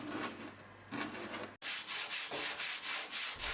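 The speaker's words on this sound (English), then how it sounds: "sand the surface to get a smooth transition into the rest of the hull" Hand-sanding a cured epoxy strip on a boat hull: rhythmic rasping back-and-forth strokes, close and fairly loud, with a brief pause partway, then a steady series of even scrubbing passes, no voices.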